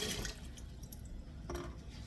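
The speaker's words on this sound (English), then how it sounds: "I'm just rinsing them right now" Tap water runs steadily over fresh green beans being rinsed in a kitchen for a green bean salad, a soft close splashing and dripping with a brief louder gush near the end.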